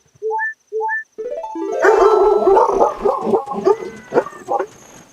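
Dogs barking inside a home, a couple of short tonal yips at first, then a loud flurry of overlapping barks and yelps up close, tapering into scattered barks.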